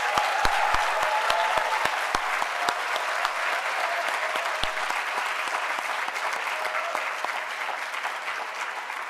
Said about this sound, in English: let's have a round of applause for the class of 2022